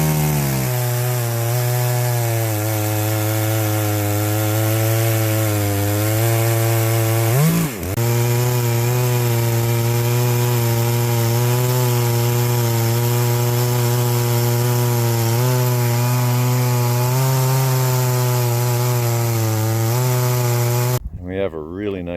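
An Alaskan chainsaw mill slices a wood slab, the chainsaw engine running loud and steady at close range with one brief dip in pitch partway through before the cut ends.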